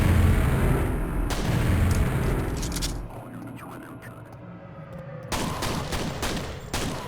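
Loud explosions from ceiling traps go off in the Quake video game, heavy booming blasts and gunfire rumbling at the start, then a quieter stretch before sharp bursts of firing return.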